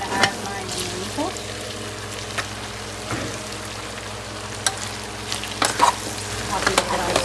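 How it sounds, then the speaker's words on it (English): Green bananas (guineitos) cook in a pot with a continuous simmering sizzle as a spoon stirs them, giving scattered knocks and scrapes against the pot. "I'll do a bit of stir. Let this stir and let this cook a little bit more."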